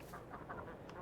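Ducks in the Farming Simulator 22 video game, on the Bucks County, Pennsylvania map, give a quick run of soft, nasal quacks over a constant low background noise.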